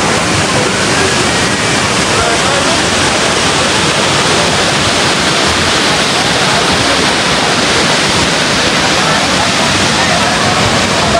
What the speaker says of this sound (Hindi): तो अभी जी हम मनठोका वाटरफॉल पे और जी ये रही वाटरफॉल